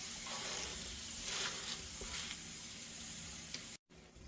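Pork steaks sizzle on a hot griddle in a loud, steady, close hiss that holds evenly throughout and cuts out briefly just before the end.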